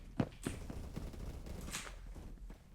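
Gunfire from an FPS weapon in a Roblox shooter, a few sharp shots early on followed by quieter, steady game action and faint footsteps, fairly low in level.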